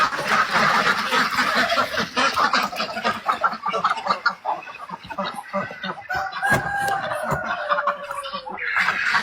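Ducks beside muddy water quack in repeated bursts mixed with other fowl calls, loud and close, overlapping one another with a busy, uneven rhythm.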